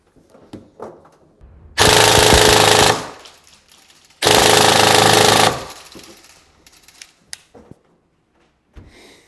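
An airsoft gun, the Bolster Armouries Onyx Blackout fitted with a tracer unit, fires two long full-auto bursts in a dark room, each a dense, loud rattle lasting over a second, separated by quiet handling clicks.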